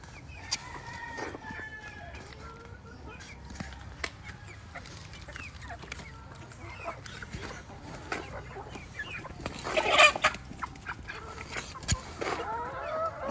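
Brahma, Orpington and Rhode Island Red cross chickens cluck and call steadily in a breeding pen, with scattered squawks, a louder burst of calls near the middle, and a distant rooster crow against a low farmyard hum.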